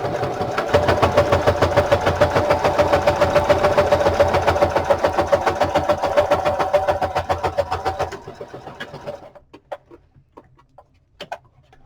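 A sewing machine runs at a steady, rapid rhythm while stitching an old book cover, then stops after about eight seconds, leaving a few scattered light clicks.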